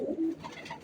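Teddy pigeon cooing at close range in a single soft, low burst, with a faint higher tone toward the end.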